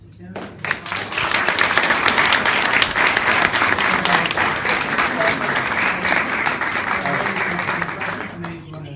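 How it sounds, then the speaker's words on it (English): An audience at a talk bursts into loud, sustained applause, dense clapping holding steady for several seconds before tapering off, with a few voices faintly mixed in. "I wanted to have us raise applause for thanks for Tim"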